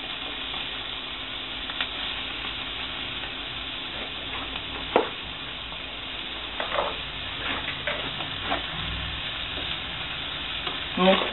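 Pieces of turkey sear and sizzle in a hot pan for a tajine with quinces, a steady frying hiss broken by sharp scrapes and knocks as a utensil stirs and turns the meat.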